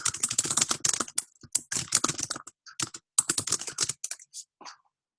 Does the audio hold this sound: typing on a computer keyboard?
yes